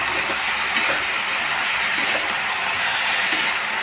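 Chopped tomato sizzles in hot oil in a pan for a Bengali fish curry, a steady, loud, hissing crackle that runs unbroken with faint pops throughout.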